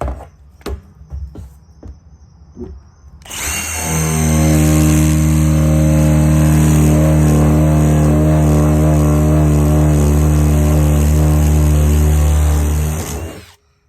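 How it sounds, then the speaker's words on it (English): A few light knocks, then a power drill whines loudly and continuously for about ten seconds as it cuts open a 55-gallon plastic barrel before stopping. "I have successfully used my drill to cut open this 55-gallon barrel."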